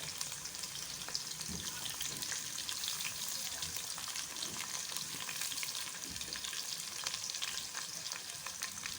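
Steady, loud sizzling of ginger and garlic frying in a hot pan, with continuous crackle and no talking.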